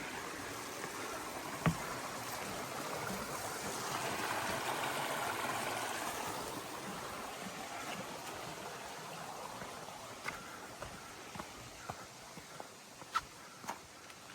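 A creek flows beside a forest trail in Rocky Fork State Park, Tennessee, giving a soft, steady watery rush with faint scattered footsteps or taps toward the end.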